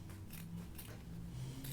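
Worn, somewhat dull scissors snipping through fabric during sewing: a few quiet, crisp cuts spaced irregularly over a low, soft background.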